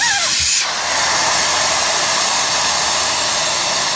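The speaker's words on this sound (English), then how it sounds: "you should hear the air starting to escape" Air rushes out of a ride-on tire valve once the core is removed, a loud continuous hiss that starts abruptly and holds steady, heard up close with no talk.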